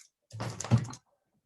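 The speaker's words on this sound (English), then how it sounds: "1 second, I'll just shut that door." A door is pushed shut indoors, giving a single short muffled thud with a brief scrape, close by and followed by quiet.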